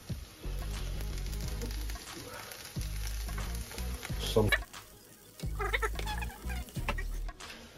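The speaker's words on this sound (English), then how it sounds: "I'm going to make a scrambled egg, mate." Salted eggs scramble in a frying pan, giving a soft, continuous sizzle that comes and goes in stretches, with intermittent voices and background household noise.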